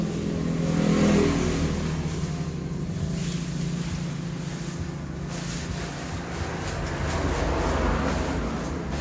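Honda cab engine running and revving, a steady close mechanical drone that swells near the start and holds fairly loud throughout, with no talking.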